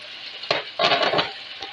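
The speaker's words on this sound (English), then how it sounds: "So I'm going to be adding in the tomatoes that we cut up." Chopped tomatoes go into a hot pan of frying pork and lemon, producing a close, loud burst of sizzling and stirring scrapes that swells and then settles back to a steady fry.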